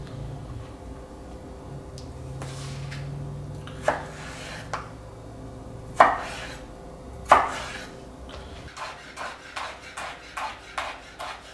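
A knife chops cucumber on a cutting board for a Persian Shirazi salad: scattered sharp knocks at first, then a quicker regular run of close, crisp chops against a faint room hum.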